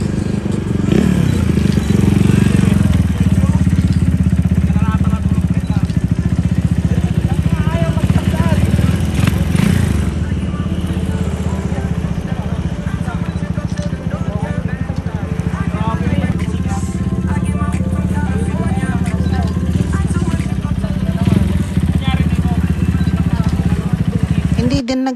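A motorcycle engine roars loudly and steadily throughout at an enduro rally event, its heavy low rumble continuous with louder revving swells near the start and middle, other engines and voices mixed into the busy crowd noise.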